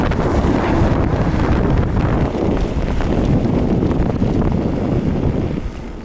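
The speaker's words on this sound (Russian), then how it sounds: "Ветер опять сильный." Strong wind roars steadily across the microphone while a bicycle speeds down a hill on a bike path, with loud continuous buffeting and no voices.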